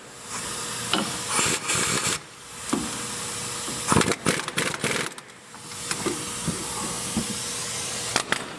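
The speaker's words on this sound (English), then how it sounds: "I'll zing them in quick with the impact and then go back with a torque wrench and set the torque" An impact wrench zings axle bolts tight on a B5 VW Passat, several short sharp rattling bursts at close range separated by brief pauses against a hissy background.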